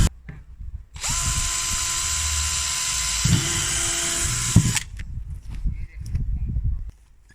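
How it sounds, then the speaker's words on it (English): A high-pitched power drill whines steadily for several seconds drilling holes in a plastic worm farm container, with a brief pitch drop partway through, then cuts off, leaving quiet handling noise. "The first thing we're going to do is drill some holes, about 15 holes."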